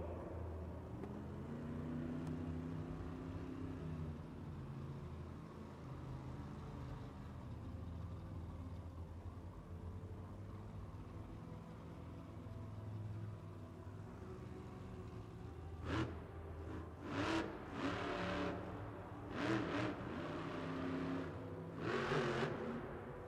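The monster truck Thor, driven by Cynthia Gauthier at a Monster Jam event in Sydney, Australia, rumbles steadily in a big arena, then bursts into several sharp, loud revving surges in its closing seconds.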